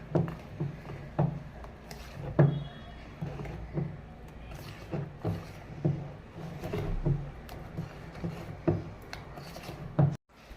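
A spatula scrapes and stirs thick white brownie batter around a bowl, with soft repeated rubbing strokes and dull taps at a steady pace, close but quiet, alone without speech.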